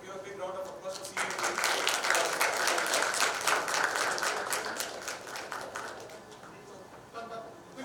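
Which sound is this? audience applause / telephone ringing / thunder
audience applause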